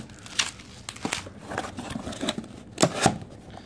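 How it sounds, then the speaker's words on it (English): Bubble wrap around Pokemon trading cards is handled up close, giving crinkling and crumpling rustles in uneven bursts with a few sharper crackles. "So, I use a little bit of bubble wrap here."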